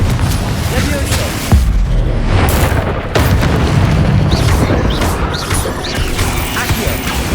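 Confringo blasting spells in Hogwarts Legacy combat: loud booming magical explosions and crackling bursts, close and dense, with shouted game voices over them.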